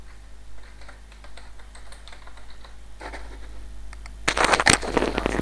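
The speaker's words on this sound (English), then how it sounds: "I'm going to type in the month." Keys clatter on a computer keyboard as a month name is typed, light scattered taps at first, then a louder, denser burst of typing toward the end.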